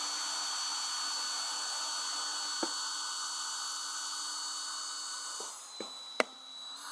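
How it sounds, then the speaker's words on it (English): A power drill with a stepped Christmas-tree drill bit hums steadily at moderate volume, followed near the end by a few sharp clicks and knocks as it stops. "I think the Christmas tree drill wasn't the best tool for this."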